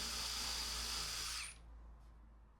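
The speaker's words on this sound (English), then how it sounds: "I'm just countersinking where I'm going to put this slate together now" A power drill countersinks holes in wood for joining slate pieces, whirring loud and steady up close for about a second and a half before cutting off, leaving a faint low hum.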